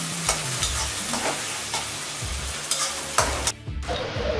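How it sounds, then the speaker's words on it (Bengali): Onions and spices fry and get stirred in a pan, a continuous sizzle broken by repeated scraping spatula strokes that end abruptly. "পেঁয়াজে বাদামি কালার না আসা পর্যন্ত আপনারা ভাজতে থাকুন পেঁয়াজ।"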